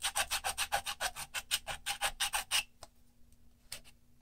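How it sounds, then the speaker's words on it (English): A regular plastic medicine bottle is filed by hand in a quick, even run of about fourteen rasping strokes. After a pause come a couple more isolated scrapes, close and fairly quiet. "So I am just filing this. Yeah, it's a regular old medicine bottle."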